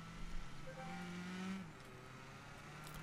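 A low, steady car engine hum in Watch Dogs drones throughout, rising slightly in pitch before settling, fairly quiet and without speech.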